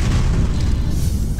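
A homemade bomb explodes in a dramatized apocalypse action series, a deep heavy rumbling boom that fills the moment with low roar and rolling debris, loud and close without speech.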